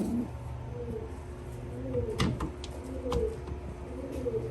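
Soft, low pigeon cooing repeats in short phrases over a steady background hum, with a few brief clicks and rustles near the middle.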